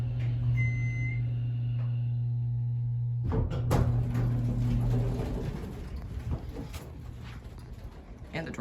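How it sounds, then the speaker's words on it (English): Hotel elevator door at a Comfort Inn closing: a low humming drone breaks into a thump and rattling slide of the door, followed by a fading mechanical rumble, heard close with a voice speaking over it. "And the door closes immediately."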